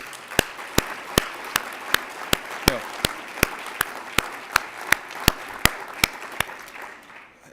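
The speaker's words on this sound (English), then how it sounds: "Let's give them a round of applause." An audience at the 2014 K-State Arts & Sciences Eisenhower Circle ceremony applauds department heads, with one nearby clapper keeping a sharp, evenly spaced beat over the wider crowd before it fades. A voice speaks briefly.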